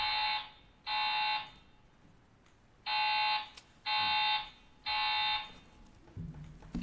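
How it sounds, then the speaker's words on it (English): A building fire alarm sounds in loud, repeated electronic blasts, each about half a second to a second long with irregular gaps between them, plus a faint low rumble near the end. "An alarm has sounded on or near your floor."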